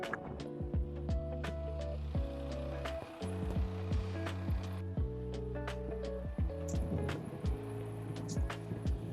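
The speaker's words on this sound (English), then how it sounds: "Now we hammer the tires." A hammer thumps on truck tires during a pretrip inspection, a quick series of dull knocks with brief pauses, close by, over a steady engine-like hum.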